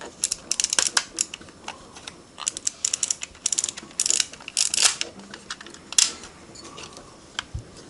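The film advance wheel on a LOMO LC-A compact camera is wound repeatedly, giving close, crisp ratcheting clicks in uneven bursts with short pauses between turns.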